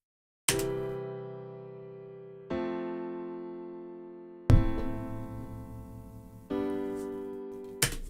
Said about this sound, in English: This is what's called a chord progression.